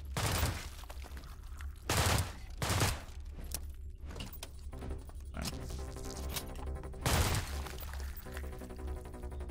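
Gunfire in the System Shock video game rings out in several sharp, loud bursts spread across the stretch, with game ambience and clanks filling the gaps between shots.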